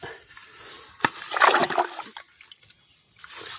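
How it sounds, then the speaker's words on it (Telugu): A hand sloshing and stirring shallow groundwater inside a borewell during the rainy season, giving short close splashes and trickles with quieter gaps between them. "ఇప్పుడు చూడండి, నేను బోర్లో చేయి పెట్టి ఆడిస్తా"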